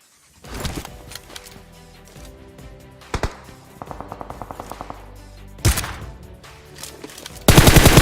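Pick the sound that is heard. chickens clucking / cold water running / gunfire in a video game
gunfire in a video game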